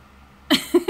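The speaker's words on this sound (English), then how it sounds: "Cold cough." One short, sharp cough from a person with a cold, loud and close, follows near silence and is made up of two quick bursts.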